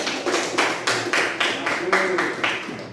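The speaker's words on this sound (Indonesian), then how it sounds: "Berikan tepuk tangan" Clapping in a classroom during a school lesson: a steady, rhythmic run of sharp claps, roughly three or four per second, fairly close, with a faint voice underneath.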